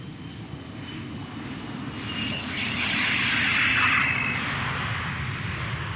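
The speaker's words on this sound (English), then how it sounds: "Embraer 175, going to Darlington or Teesside." A KLM Embraer 175 jet departs Amsterdam Schiphol for Teesside, its engine roar swelling steadily and holding loud and broad with a rising hiss through the middle, heard close by without anyone talking.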